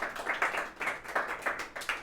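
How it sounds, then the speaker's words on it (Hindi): Clapping at a student award ceremony, a few hands beating out a steady rhythm of distinct claps, close and moderately loud, with no talking over it. "जोरदार तालियां हो जाएं इनके लिए"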